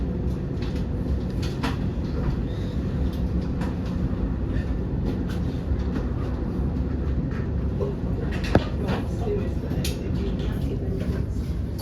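Elizabeth line train running between Abbey Wood and Heathrow Terminal 4, a steady low rumble of rail and motor noise throughout with a brief sharp click near the end, faint voices mixed under the drone.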